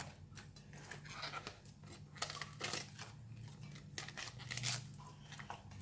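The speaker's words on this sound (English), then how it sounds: "I cut it into half and then cut it into smaller pieces like that" Cabbage leaves being cut into small pieces with a knife for a stir fry, giving a quiet, busy run of soft crunchy slices and taps throughout, with no talking.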